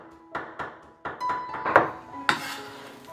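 A knife chops raw chicken breast into mince on a cutting board, giving irregular, close, fairly sharp thuds and taps spread across a few seconds.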